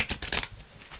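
A large deck of stiff tarot cards is shuffled by hand in a short burst of papery riffling and flicking, fairly close and quiet, with a faint bump at the end.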